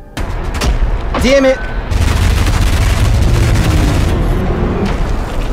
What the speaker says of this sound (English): Machine guns. Always effective against giant hands.